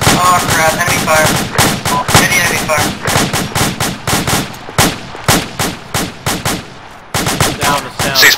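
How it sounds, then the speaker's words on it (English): Enemy gunfire in a military shooter video game comes as loud, sharp bursts of automatic fire, with rapid repeated cracks that stop briefly and then resume. Voices are heard faintly beneath the shots. "Oh crap, enemy fire."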